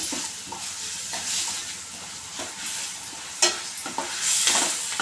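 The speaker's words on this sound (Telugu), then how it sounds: "ఇప్పుడు అల్లం పేస్ట్ వేసుకున్నాం ఒక స్పూను వేసుకున్నాక కలుపుకోవాలి" Ginger paste frying in a pan, a steady hissing sizzle with occasional scrapes and knocks of a spoon stirring it through the oil, continuous and close.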